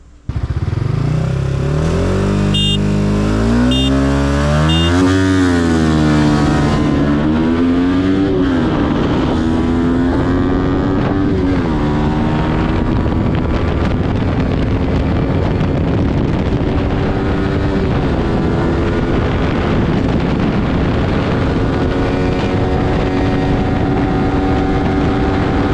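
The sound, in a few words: Yamaha R15 V4 190cc big bore motorcycle racing an RC200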